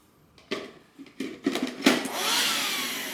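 A few clicks and knocks from handling a Makita CL100DZ 10.8 V cordless vacuum cleaner lead into its motor whirring up to a steady, close suction whine for the last second.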